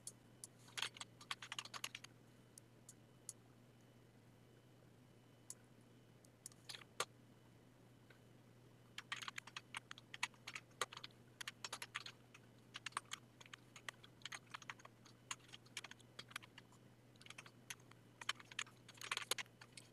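Keys clack on a computer keyboard in quick, irregular bursts with short pauses between, close and fairly quiet over a steady low hum, with no one talking.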